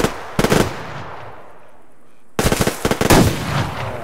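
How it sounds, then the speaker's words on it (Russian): Bursts of automatic gunfire in the Survarium online shooter, a short volley followed by a pause and then a longer stretch of rapid, loud shots with echoing tails. "Пускай стреляет"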